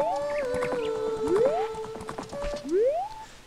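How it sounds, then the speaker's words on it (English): Epona, a horse in the video game Zelda: Ocarina of Time, makes rising whinnies over clip-clopping hooves, loud and near, with a tonal melody playing throughout. "She's a horse."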